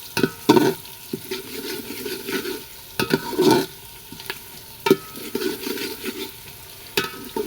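Lightly frying onion hisses in a pan, with repeated bursts of stirring and scraping.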